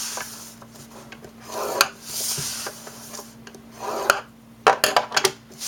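Scoring a line into cardstock for a 6 3/4 by 7 3/4 inch box: soft, close scraping and rubbing strokes repeat through the stretch, ending in a few sharper taps and scrapes, with no talking.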